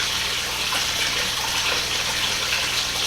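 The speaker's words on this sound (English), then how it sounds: "So basically the water's just coming up to here and coming right back out" Water from a garden pond filter outlet pours back into the pond in a steady, close, broadband gush that holds unbroken throughout, with no voices.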